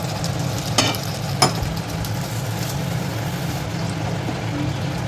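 Water poured into a pan of frying prawn masala for a Bengali-style prawn dish sets off a loud, steady sizzle, broken by two sharp knocks of a utensil early on.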